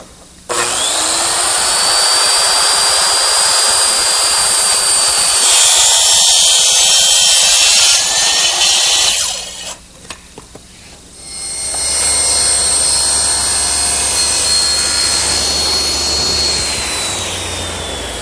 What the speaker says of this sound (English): I'm going to use my circular saw up against it.